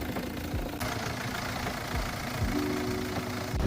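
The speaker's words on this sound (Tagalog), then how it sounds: "Ayan, maganda yung tunog ng engine." A Hyundai Grand Santa Fe engine idles steadily nearby with a low, even hum and faint rhythmic ticking.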